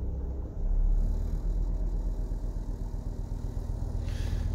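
Mercedes Sprinter van engine idling just under 1,000 RPM, a steady close low rumble with even mechanical pulsing, heard alone without voices.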